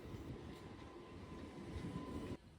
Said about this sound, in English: our train is arriving at the platform